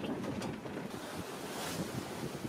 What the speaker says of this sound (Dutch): Wind en golven